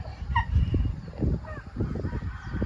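Game fowl on a farm give a few short honking calls amid low, irregular thumps and scuffling nearby.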